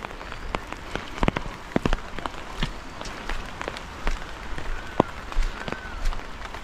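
Steady rain falls on cloudy, cool weather, a dense patter of drops striking surfaces with scattered louder taps, continuous and close.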